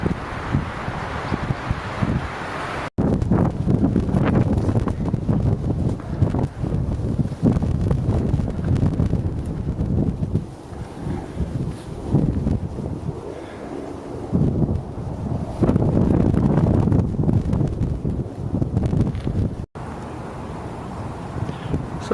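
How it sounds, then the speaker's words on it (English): Strong southeaster wind buffets the microphone on a steep hillside in a nature reserve, a loud continuous rumbling roar with gusty surges and dips throughout. "A bit of a southeaster blowing."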